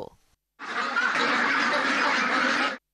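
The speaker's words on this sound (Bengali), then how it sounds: "পেকিন জাতের হাঁস দেখতে আকর্ষণীয় ও দ্রুত বেড়ে ওঠে" Pekin ducks on a duck farm make a loud, dense burst of honking and quacking that starts abruptly and holds steady for about two seconds before cutting off, with a brief faint sound just before.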